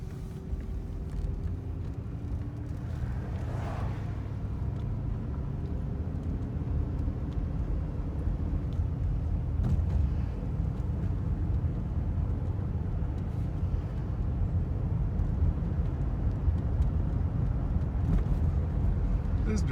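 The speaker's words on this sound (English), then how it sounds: "Just driving around the block" A Mercedes 500SL R129 with the M119 V8 rumbles at low, steady cruise around a block, its engine and road noise droning continuously beneath occasional speech inside the car.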